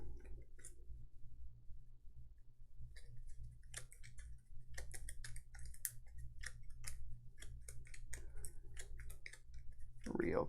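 Gloomhaven board game cards are shuffled by hand in a quiet room, giving irregular bursts of crisp clicks and soft card slaps over a low steady hum.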